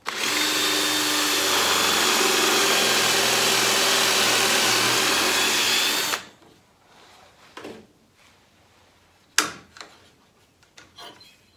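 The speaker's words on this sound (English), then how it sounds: "now with the drill guide, I can keep the drill vertical, and now I can drill the rest of the way." Power drill boring a hole through a drill guide, a loud steady whine for about six seconds that stops abruptly, followed by faint handling clicks and a knock.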